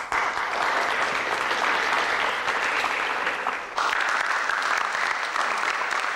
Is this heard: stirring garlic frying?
no